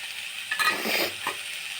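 Vegetables sauté in a pan for vegetable rice, giving a soft, steady sizzle with a few brief scraping stirs of a spatula partway through, close and moderately quiet.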